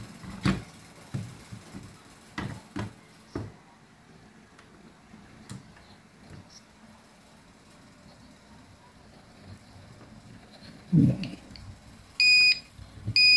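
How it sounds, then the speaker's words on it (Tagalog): Near the end, a series of short electronic beeps sounds from a backup UPS buzzer after a new battery is connected, following quiet clicks and handling noises. "Ayan, nag-buzzer siya guys"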